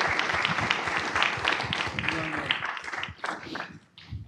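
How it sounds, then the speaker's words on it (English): Applause from the audience at the MIT Bitcoin Expo 2025 for panelists, a full round of clapping that gradually tapers, breaking into scattered claps and a brief voice near the end. "can we get a round of applause?"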